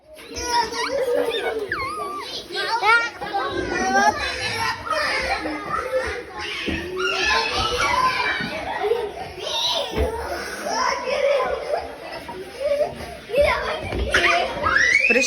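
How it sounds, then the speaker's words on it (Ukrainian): Children at a drawing class, a dense, noisy din of many young voices chattering, shouting and laughing at once, continuous and close throughout. "У них тут шум, гам, дітей багато."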